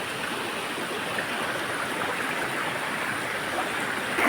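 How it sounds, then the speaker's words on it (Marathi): Water rushes fast and under pressure through a shallow stream at a crab-catching spot, a loud, steady broadband wash that swells slightly at the very end. "बघू शकते बघा किती प्रेशरने पाणी आहे"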